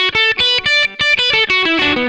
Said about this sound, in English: So, it's a pentatonic scale.